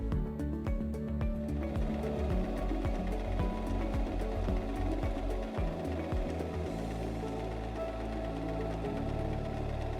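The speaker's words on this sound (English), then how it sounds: "place your fabric underneath the presser foot, lower the presser foot lifter and step on the foot control to start sewing" A Singer M3330 sewing machine running a straight stitch, continuous close mechanical whirring with rapid rhythmic needle ticking, steady throughout with a slight change in tone partway, no speech.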